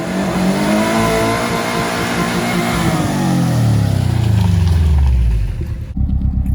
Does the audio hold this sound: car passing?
yes